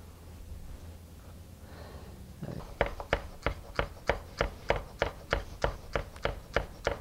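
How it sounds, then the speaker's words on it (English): Red basil being chopped into thin chiffonade with a knife on a cutting board: about fourteen quick, evenly spaced chops that begin a few seconds in, close and crisp above quiet room tone. "Chop the basil into thin chiffonade."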